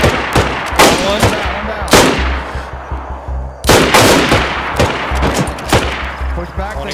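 Gunfire in DayZ during a player-versus-player event, with loud sharp shots in irregular bursts and single cracks spread over several seconds, close and punchy with brief gaps between volleys.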